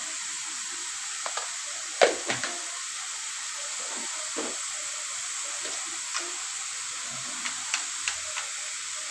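Ground coriander and chili powder dropped into a hot pan of oil, a steady soft sizzle with a few sharp crackles and stirring clicks scattered through, fairly close and without talk.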